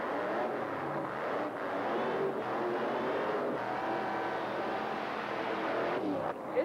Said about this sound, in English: Camp Stanley's old race car, the Just Lovin' It pickup truck.